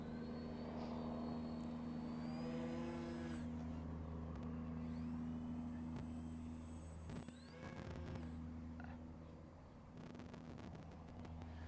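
An FMS Ranger 1220mm radio-controlled model airplane buzzes steadily overhead, its whining drone rising and falling slightly in pitch as it flies, with no talking.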